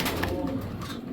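Cavendish pigeons in a loft, a brief soft throaty cooing close by, low and continuous over a second.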